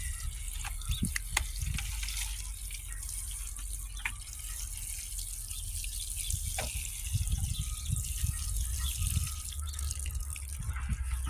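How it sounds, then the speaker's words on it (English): Water is poured onto a berry bush in a garden, a steady trickling stream with scattered drips and splashes, close and continuous with no talking. "Let's give this a little water."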